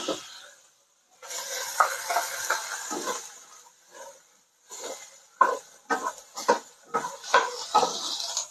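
Carrots, onion and celery go into a pot for beef stew with a burst of sizzling, then repeated close scraping and clattering strokes as the pieces are stirred, separated by brief pauses.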